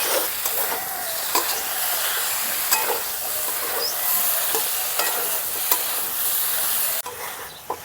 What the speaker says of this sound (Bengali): ফুলকপিগুলো দিয়েও কিন্তু খুব সুন্দর করে কষিয়ে নিতে হবে মশলার সঙ্গে